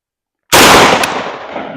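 A 12 gauge Zveroboy slug fired from a shotgun at an outdoor range: after silence, a single loud sharp report rings out and decays slowly over about a second.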